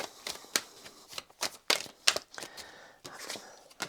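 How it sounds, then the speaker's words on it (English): Tarot cards being shuffled by hand in a quiet room, a run of crisp papery riffles and slaps in uneven bursts, close and moderately loud with no talk. "I'm shuffling here. We're going to find 10 cards for you."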